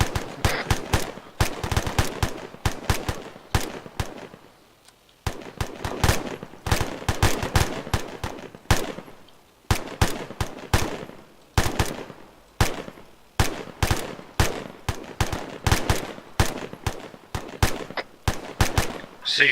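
Enemy gunfire in Arma 3: loud, sharp rifle and machine-gun bursts crackling in rapid clusters, broken by short pauses, close and sustained the whole time.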